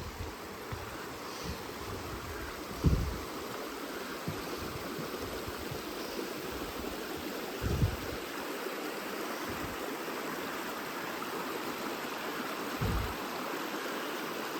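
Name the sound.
creek water flowing under a forest trail bridge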